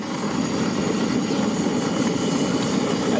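A windproof camp stove with high-pressure jets burning at full roar, a steady loud rushing hiss that holds evenly throughout, near and alone.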